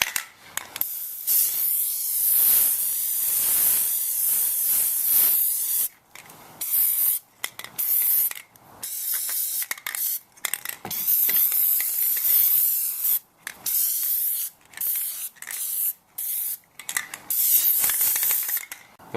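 Aerosol can spraying Plasti Dip onto a Toyota Tundra grill, a close, loud hissing in repeated bursts of several seconds each with short pauses between passes as more coats go on.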